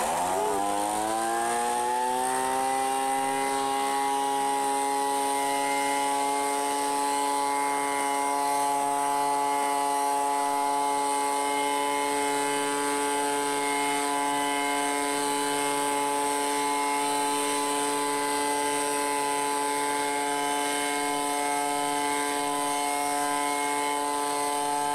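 A Ryobi chainsaw runs steadily at high revs for the whole stretch, a loud continuous buzzing whine with no talk, cutting through sticks by a curb.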